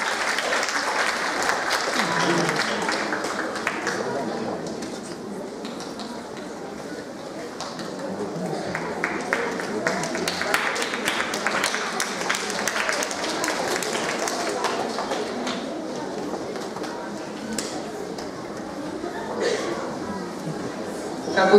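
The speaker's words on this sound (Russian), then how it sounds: "Аплодисменты мы их провожаем" Sustained audience applause at a children's arts centre year-end report concert, lively clapping that dips briefly and swells again, with voices and chatter audible in the crowd throughout.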